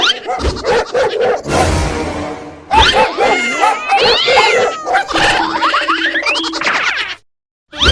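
A cat and her kittens meow and caterwaul repeatedly at close range, mixed with springy boing effects and some chatter in a lively comedy sketch.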